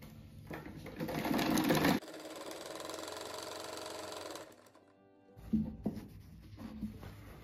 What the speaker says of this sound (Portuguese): agora eu vou costurar os dois blocos juntos